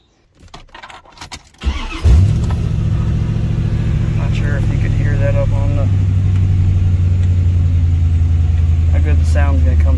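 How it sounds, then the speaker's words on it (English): A 1993 Corvette's 350 small block Chevy V8 with straight-pipe exhaust starts up after some handling noise, then settles into a loud, steady, close rumbling idle. "So we got a 350 small block Chevy. 300 horsepower from factory."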